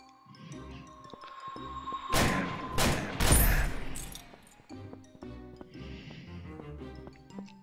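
Three or four sharp, loud gunshot blasts ring out from a weapon in the VR shooter Crystal Raiders, played on an Oculus Rift S. Game music plays around them.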